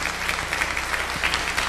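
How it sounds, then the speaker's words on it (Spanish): Audience applause at a UFO conference, a dense, steady wash of many hands clapping continuously and fairly loud throughout. "para quien pido un fuerte aplauso"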